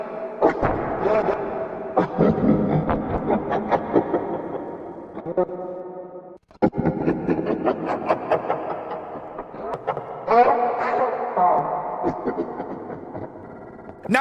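Revenant Freddy attack sound cue from a FNAF horror video game, a dense, distorted, throbbing noise with clanking hits in two long bursts split by a short gap, loud and unbroken.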